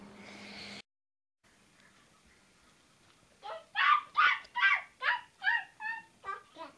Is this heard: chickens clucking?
yes